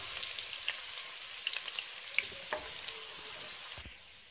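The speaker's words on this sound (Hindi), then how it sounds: "अब हम इसमें प्याज डालेंगे लाइट ब्राउन कलर करेंगे प्याज का" Onions sizzle in hot oil for a vegetable pulao, a steady broadband hiss dotted with sharp pops and crackles, close and moderately loud, with one soft low knock near the end and no voices.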